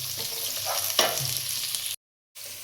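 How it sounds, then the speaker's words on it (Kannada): Coriander stems hit hot tempering oil for a village-style egg biryani, making a close, busy sizzle with stirring scrapes; the sound cuts out briefly near the end before the frying resumes. "ಮೊದಲು ಕೊತ್ತಂಬರಿ ಬಡ್ಡೆ ಇರುತ್ತಲ್ಲ ಹಿಂದೆ, ಅದನ್ನು ಫಸ್ಟ್ ಒಗ್ಗರಣೆಗೆ ಹಾಕ್ತೀನಿ"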